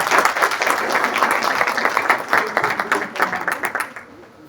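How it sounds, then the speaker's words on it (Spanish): Audience applause at a seminar on violence in the twenty-first century, brisk clapping from a hall crowd that thins into scattered claps and fades out. "Un aplauso para la señora."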